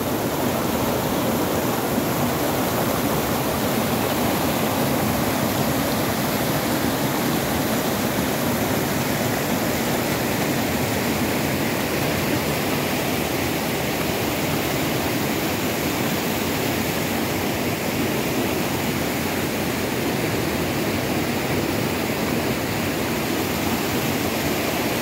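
A mountain river fed by rain and spring water rushes steadily, a dense even wash of flowing water that holds constant and fairly loud throughout, with no voices.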